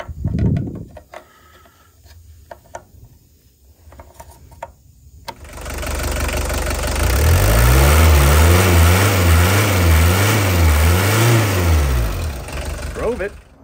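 A Volkswagen Doka Transporter engine starts, idles and then pulls away, its mid-pitched drone rising and falling with revs as it drives, loud and close after a few quiet clicks and knocks.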